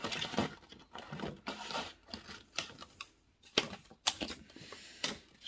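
New kitchen shears snip through food in a series of quiet, close, irregular crisp cuts and clicks.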